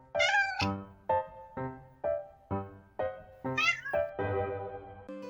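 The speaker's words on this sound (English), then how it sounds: "some bardic inspiration from none other than Lucky, the like and comment kitty" A cat meows repeatedly at close range, about ten insistent meows in a steady rhythm, some rising into higher, drawn-out cries.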